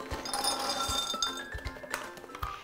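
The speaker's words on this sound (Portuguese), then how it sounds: "Vou colocar em um vidro com água bem quente." Organic unsalted cashew nuts clink into a glass jar of very hot water in a home kitchen, a quick run of small bright glassy taps and rattles, close and clear with no talking.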